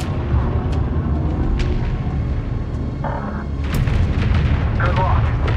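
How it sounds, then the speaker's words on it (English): A hostile frigate explodes in the space strategy game Homeworld 3, a dense, sustained rumbling blast amid ongoing battle noise, with occasional sharper bursts and game voices over it. "Direct hit. Hostile frigate destroyed."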